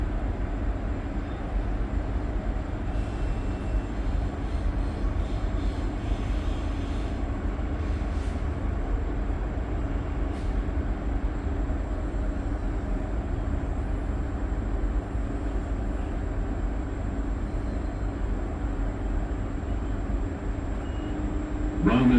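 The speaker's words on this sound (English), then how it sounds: "let's listen to how those trains sound" A steady, continuous rumble of a train running along the tracks at Roma Street Station, with a low droning hum and occasional faint higher clanks, heard up close without speech.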